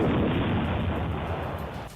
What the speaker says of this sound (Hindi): इसके बाद उन गोलों को तोप में भरकर दाग दिया गया।